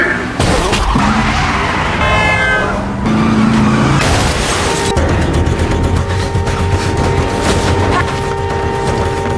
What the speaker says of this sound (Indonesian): mobil Jamie ditabrak oleh mobil emak-emak ini sob.